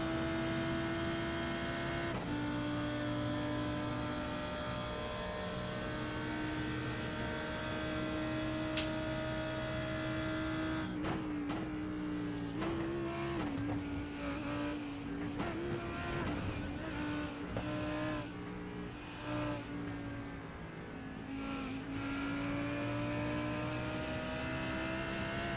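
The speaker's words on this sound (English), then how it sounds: "listen to the sights and sounds of this lovely Lamborghini into the bus stop chicane" A Lamborghini GT3 race car in a racing video game at Watkins Glen, its engine droning steadily throughout with rising and falling revs as it brakes and shifts into the bus stop chicane, plus brief rattles and scrapes midway.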